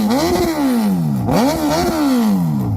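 Suzuki Hayabusa fitted with a TBR full exhaust system revving hard, its loud engine note climbing and falling in repeated sweeping pulls, close and continuous.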